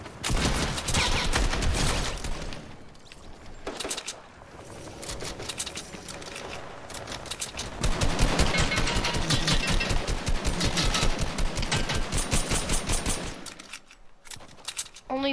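Video game gunfire rattles in loud, rapid automatic bursts, running almost continuously with short lulls before resuming in long, fast streams of shots.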